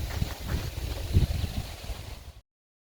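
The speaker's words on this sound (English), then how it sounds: "I hope you can hear me with all this wind, right?" Outdoor wind buffets a microphone with no wireless mic, a loud continuous low rumble with gusty swells that runs steadily for over two seconds and then cuts off abruptly.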